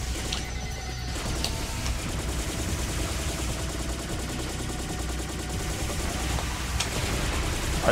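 Rapid gunfire from the video game P.N.03 rattles in dense, continuous bursts with sharp metallic impacts, loud and steady throughout.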